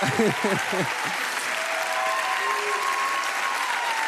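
Studio audience on a French lookalike television show breaks into sustained applause, a steady dense clapping; a voice speaks briefly at the start before the clapping carries on alone.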